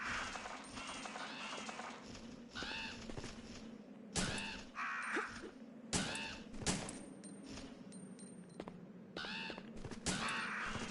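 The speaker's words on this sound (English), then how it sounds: "I hear a fucking bird." Crows caw in Resident Evil 3 near the clock tower: several harsh, scattered calls rise over a low game ambience, and a few sharp thuds or shots break in between. The sound is fairly faint overall.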